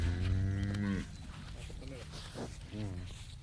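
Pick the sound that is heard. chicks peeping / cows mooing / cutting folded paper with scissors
cows mooing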